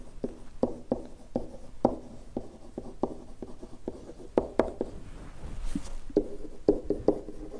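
Pencil writing on paper in a geometry lesson, a run of quick scratchy strokes and taps in irregular bursts, close and clear, with no talking.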